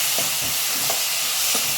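Onion, tomato and coconut stirred together in a frying pan for a spicy eggplant curry, giving a steady sizzling hiss with a few soft scraping strokes about every half second, close and alone.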